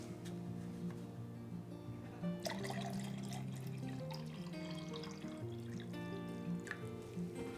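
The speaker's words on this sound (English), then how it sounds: "Next, I'm going to add 300 milliliters of the water." Water trickles and splashes into a beaker of D76 film developer for a black-and-white mix, a light continuous pour with brief drips, heard alone over a steady background tone.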